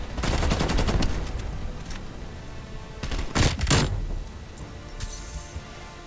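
Rapid bursts of automatic gunfire with sharp headshot hits in Call of Duty Cold War, Krig 6 rifle; a dense volley opens, then scattered cracks and a second cluster of shots follow, loud and close with no voices.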